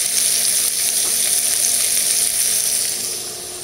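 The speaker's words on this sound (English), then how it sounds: "Sauteing." Food sautéing in a hot pan gives a loud, dense, continuous sizzle that holds steady and then eases slightly at the end, with no talking.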